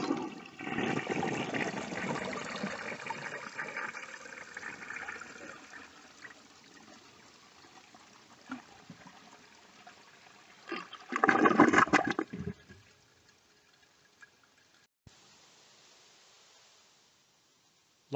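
A 1957 Standard Cadet toilet fitted with a flapper valve flushes in a rush of water, trickles and refills, then a second surge of gurgling water follows before the flow fades to quiet, heard up close.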